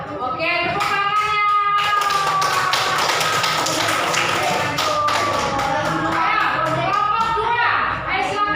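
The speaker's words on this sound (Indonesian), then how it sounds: "Oke, tepuk tangannya." Classroom applause from students, rapid hand clapping that runs steadily throughout, with children's voices and cheering mixed in.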